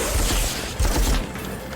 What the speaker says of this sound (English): Our men shoot with heavy weapons,